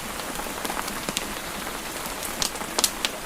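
Steady rain falling on a cottage, a dense even hiss with scattered sharper drop taps, alone with no voices.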